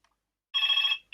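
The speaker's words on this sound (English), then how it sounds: "Bloody phone call." A telephone bell rings loudly in a single sustained burst, then a second ring begins after a short gap, with silence before it and no talk over it.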